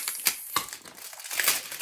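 Plastic toy packaging crinkles and crackles in a few short, sharp bursts during an unboxing, close and fairly quiet, with no talking.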